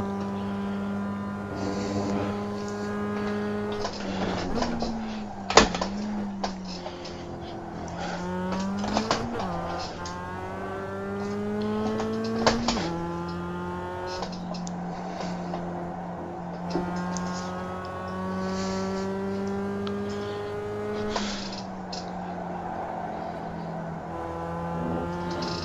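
A Mazda race car in the iRacing video game lapping Laguna Seca, its engine revving high and dropping through rapid gear changes, close and continuous, with brief tire squeal.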